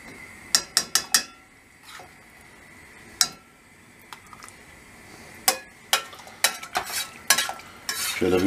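Tomato paste is stirred into bone broth in a pan, with a series of sharp scraping and clinking strokes of a utensil against the pan over a quiet sizzle, clustered in quick bursts and spaced pauses.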